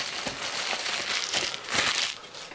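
Crinkling and crumpling of plastic and cardboard as a beat-up shipping box holding a Positive Grid Spark Go is opened, with repeated close rustles and scrapes over about two and a half seconds, no talk.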